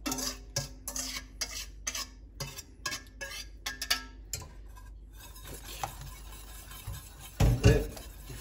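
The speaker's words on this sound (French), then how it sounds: "il faut jamais arrêter de mélanger" A spoon scrapes and clicks rhythmically against a pan while a lemon tart egg mixture heats, with steady, close stirring strokes, a faint background hum and a louder clatter near the end.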